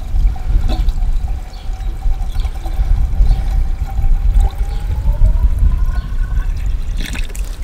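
Water runs steadily from a tap into a container, the pitch slowly rising as it fills; close and continuous, with no talking.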